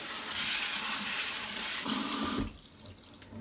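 Water runs steadily from a tap while dyed hair is rinsed in a sink, a continuous broad rush that cuts off abruptly near the end.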